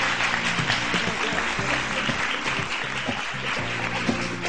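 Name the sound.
audience applause welcoming a guest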